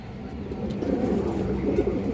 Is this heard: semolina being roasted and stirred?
no